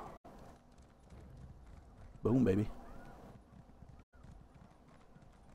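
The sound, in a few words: horse galloping in video game Elder Scrolls Online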